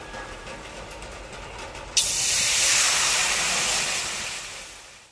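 Water heating in an iron wok (kadai) on a stove, a sudden sharp burst of hissing sizzle that starts abruptly, holds loud and steady, then slowly fades, close up with no voices.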